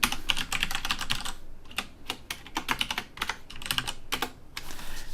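Steady typing on a computer keyboard while entering a Java Home path on Windows 10, dense bursts of close clicky keystrokes with brief pauses between runs, no talking.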